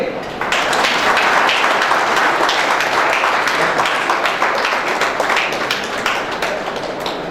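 Audience at a Safe Shop business meeting in Allahabad claps steadily for a man invited up front, a dense sustained round of applause with sharp individual claps standing out throughout.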